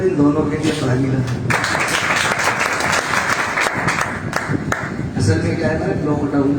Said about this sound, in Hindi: इन दोनों के लिए ताली ना।